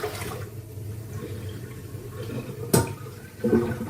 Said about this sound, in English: I just put it in the sink and put water on it.